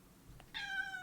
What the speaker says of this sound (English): sorry about the cat, everyone.